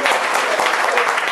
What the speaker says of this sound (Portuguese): Vamos aplaudir mais uma vez.